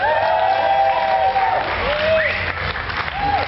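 Loud, sustained crowd applause at a live stand-up comedy set at the Bestival festival, steady clapping with some cheers and a voice speaking over it.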